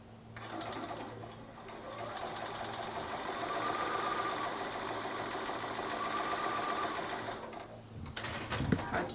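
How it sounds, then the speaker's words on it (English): A sewing machine runs steadily, stitching a quarter-inch seam on fabric pieces for a mini folded-corner ruler project. The even motor hum and rapid needle chatter hold for about eight seconds and stop near the end, followed by a few handling clicks. "And so there I have now sewn that seam."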